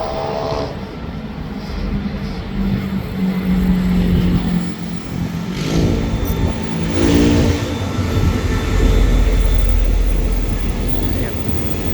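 An express passenger train passes on a curve near Ban Pong station, a steady rumbling roll of wheels and engine rising and falling over twelve seconds, with people talking faintly underneath.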